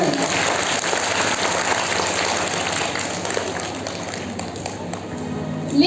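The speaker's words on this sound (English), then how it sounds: "Audience, please give them a huge round of applause for their wonderful performance." Audience applause at a school Independence Day celebration following a dance performance, a dense, steady wash of clapping that stays loud and continuous throughout, fading slightly near the end.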